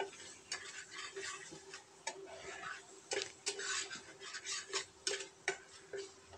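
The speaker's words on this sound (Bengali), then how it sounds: "এভাবে নাড়াতে নাড়াতে একদম কষায় নিতে হবে।" A spoon stirs and scrapes paya curry masala in a pot, frying it in a little oil. Irregular clinks and scrapes sound close over a faint sizzle, with no talk.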